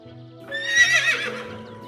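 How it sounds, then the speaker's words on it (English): A horse whinnies once, loud and close, a rising-and-falling neigh lasting about a second over a soft musical backing. "This is horse."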